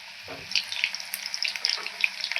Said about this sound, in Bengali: তো এই কড়াইটা আমি উলটপালট করে ভেজে নিচ্ছি আগে।